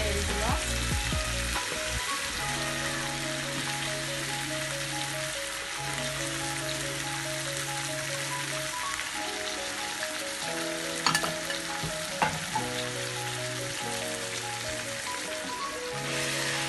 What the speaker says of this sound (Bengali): তারপর আমি এখানে এখন ফ্রাই করে বার্ডসগুলো দিয়ে দেবো, কোয়েলগুলো